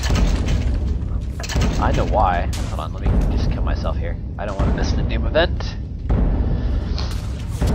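Heavy, pounding booms rumble continuously in a Minecraft DvZ game soundscape as the Doom Clock reaches zero, while someone talks over them.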